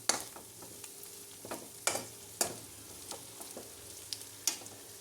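Curry leaves sizzle and crackle in hot oil for a paneer curry, a steady frying hiss broken by sharp pops and spits, with no voices.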